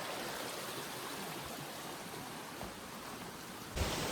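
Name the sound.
water flowing continuously in a forest stream, the source of a waterfall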